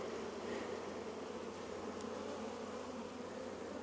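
Honey bees buzzing during an apiary hive inspection on a very hot day, a dense, steady, continuous hum close by, with no talking.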